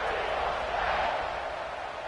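A football stadium crowd in a video game roars as a steady, broad wash of cheering voices, sustained and fairly loud throughout without breaks.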